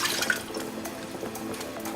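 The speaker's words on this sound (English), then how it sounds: "I'll put in some water," Water poured into a heating pan while cooking, a continuous splashing and trickling pour with a few sharp ticks, fairly close and moderately quiet, with no voices.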